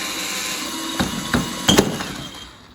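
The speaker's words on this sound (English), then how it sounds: "Just gonna drill a hole in the bottom of here really quick." A regular drill bit bores into the base of an unglazed terracotta IKEA pot, heard as a few sharp grinding bursts over a steady hiss, louder toward the end before tapering off, with no talking.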